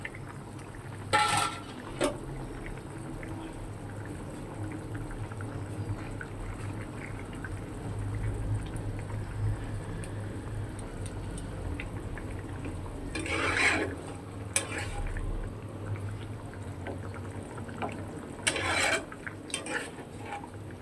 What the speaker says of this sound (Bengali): দেখো ফুটে উঠেছে তরকারিটা।